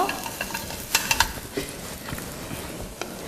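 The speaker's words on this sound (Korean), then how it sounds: "자, 재료를 볶아보도록 하겠습니다" A small amount of butter sizzles in a pan as ingredients are sautéed for a brown gravy, with steady frying crackle, stirring scrapes and a few sharper utensil clicks, close and moderately loud.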